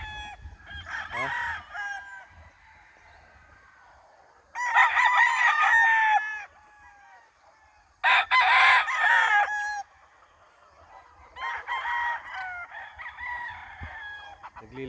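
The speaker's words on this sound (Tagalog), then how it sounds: "Naglilipat ng mga manok doon si Nestor." Roosters crow loudly several times in long, strained calls on a farm, with softer hen clucking and murmuring between them.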